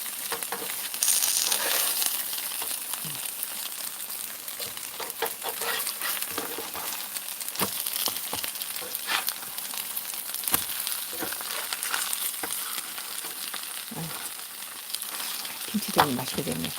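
A kimchi pancake sizzles steadily as it fries in a pan, a dense crackle that runs the whole time. Sharp pops, light scraping and occasional low clinks sit over it, close by.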